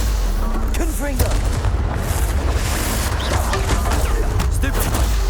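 Confringo blasting spell exploding in the Hogwarts Legacy video game, loud rumbling booms and crackling blasts over a constant heavy roar, with a voice talking through the combat.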